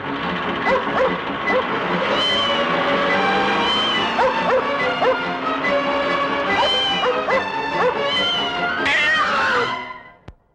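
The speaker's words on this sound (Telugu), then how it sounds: "పిల్లి బాబు గారు." A cat meows repeatedly and loudly up close, with drawn-out, wailing cries that run almost continuously before stopping abruptly near the end.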